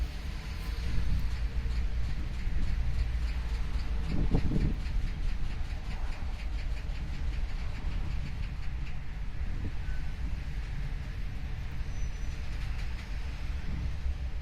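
A TCDD DE 33 diesel locomotive shunting at Niğde station rumbles steadily with low engine drone and rhythmic wheel clatter, loud and continuous, with occasional metallic clanks from the cars.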